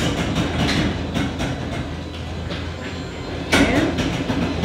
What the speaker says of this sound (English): Garage door starts to go up.